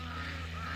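Geese on a frozen pond in winter give a brief, faint, steady honking call, heard alone for under a second.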